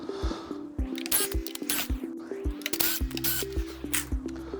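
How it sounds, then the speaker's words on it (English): Small 3mm screws being removed from an Inmotion P6 electric scooter during a driver board replacement, heard as close, sharp clicks and ratcheting tool taps in an irregular rhythm with a low steady hum underneath. "Let's go ahead and get them removed."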